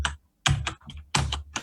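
Close, loud computer keyboard typing heard during a Roll20 tabletop game session, arriving in three dense bursts of rapid key clicks separated by brief pauses, with no talking.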